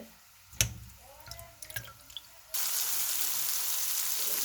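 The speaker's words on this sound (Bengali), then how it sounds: "মাছগুলি কেটে এখন পরিষ্কার পানি দিয়ে ধুয়ে উঠিয়ে নেব।" Clean water runs and splashes while cut pieces of stinging catfish (shing fish) are rinsed. A few sharp drips come first, then a steady, close rush of flowing water.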